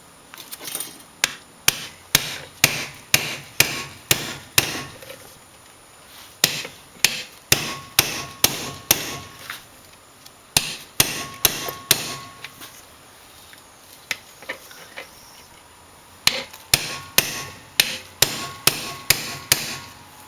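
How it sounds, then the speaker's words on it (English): A new bearing on a Toro Recycler mower is driven in with a 21mm socket. Loud, close hammer blows ring out in quick metallic bursts, with brief pauses between the series. "Now to drive in the new bearing, I'm going to be using a 21mm socket."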